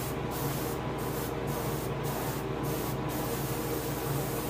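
Yellow paint sprayed from an airbrush onto a largemouth bass taxidermy mount, a continuous hissing spray with brief pulsed breaks, close and steady, with no talking.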